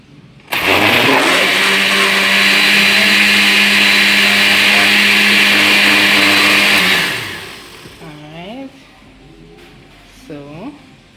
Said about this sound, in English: you can use any blender, you don't have to be specific blender